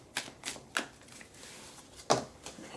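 Small Moon Magic mini cards being shuffled by hand, a handful of quick papery riffling bursts spaced irregularly, close and fairly quiet with no talking.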